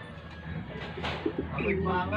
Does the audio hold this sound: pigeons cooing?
yes